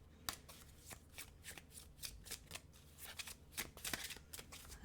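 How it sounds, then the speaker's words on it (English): Tarot cards being shuffled at a reading table, a steady run of crisp riffling snaps and flutters that keeps going for a few seconds, close and clear with no talking over it. "One more shuffle."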